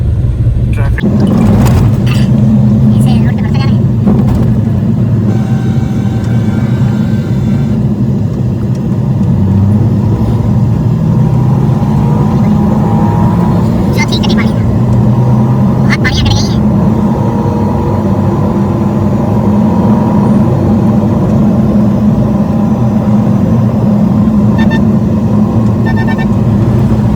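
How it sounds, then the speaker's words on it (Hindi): Busy city road traffic in Karachi, Pakistan: a steady loud rumble of car and bus engines passing nearby, with occasional horn toots and people talking faintly in the background. "ट्रैफिक"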